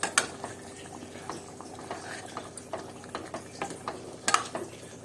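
Dried fish curry cooking in a pot, a soft bubbling simmer with small irregular pops and occasional light clinks, faint and close.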